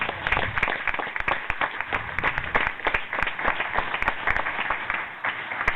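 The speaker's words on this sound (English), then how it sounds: "They need another round of applause." A roomful of people at a school district board of trustees meeting breaks into sustained applause, dense overlapping claps continuing steadily throughout.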